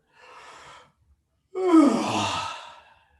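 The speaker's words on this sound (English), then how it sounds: "Yawn" A person gives a long yawn, preceded by a short breathy intake, then a loud drawn-out voiced exhale that fades over about a second and a half, close and alone.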